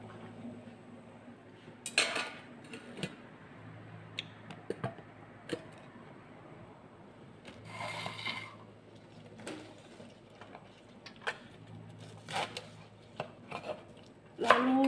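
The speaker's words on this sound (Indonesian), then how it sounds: "Lalu daun bawangnya kita potong-potong halus teman-teman" A knife chops spring onions on a cutting board in a home kitchen, with irregular sharp taps and a few brief clusters of quick cuts, fairly quiet and with no talk.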